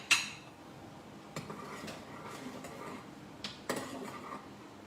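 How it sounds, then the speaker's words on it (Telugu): A spoon stirs and scrapes a cocoa and milk powder mixture in a metal pan, giving a few sharp clinks and softer scraping strokes at a steady, close, fairly quiet level with no talking. "దీన్ని కలుపుతూనే ఉండాలి"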